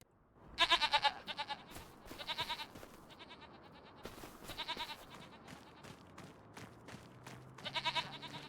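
Goats bleating in the Farming Simulator 25 video game on a large farm, a series of loud, nasal bleats repeated in bursts across the stretch, several animals calling close by with no talk over them.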